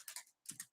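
A few quick bursts of keystrokes clatter on a computer keyboard, close and clear, in two short clusters with a brief pause between them and no talk.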